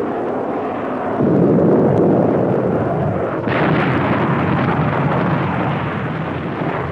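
Rockets fired from an F-100D strike a 105 mm howitzer at a 1963 tactical weapons test, a sustained loud rumbling roar of impacts and blasts that swells about a second in and surges again midway, with no voices.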